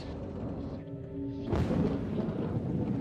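A violent thunderstorm over Little Rock, Arkansas, recorded at night: a steady rumble of rain and wind gives way to a sudden loud crack of thunder that rolls on under continuing downpour, with no speech.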